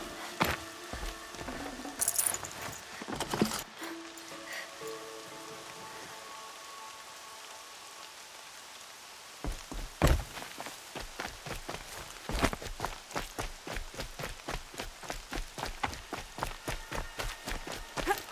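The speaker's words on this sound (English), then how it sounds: "Rain's not so bad." Rain falling in the game Horizon Zero Dawn, a steady soft hiss of drops on surfaces, with a denser patter of regular footfall-like taps in the second half and brief sharper knocks near the start.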